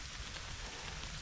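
Quiet, steady patter of rain falling on a surface, a soft continuous hiss with no voices.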